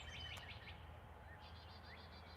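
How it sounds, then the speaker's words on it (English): Birds sing faintly in the morning, with a few thin chirps and short repeated trilling phrases scattered over a quiet, low background hum. "The birds, they're so pretty. Let's listen to them."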